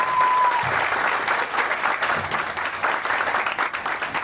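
Sustained audience applause at a bank clerk training cultural programme, a dense, steady wash of clapping from a sizable crowd filling the whole stretch, with a brief whistle-like tone early on.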